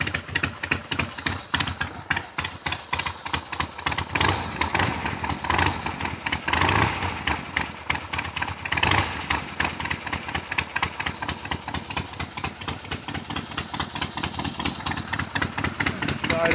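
A motorcycle fitted with baffled drag pipes idles from about four and a half feet away, its exhaust a steady rapid loping putter with a couple of brief swells in revs. A voice talks over it at times.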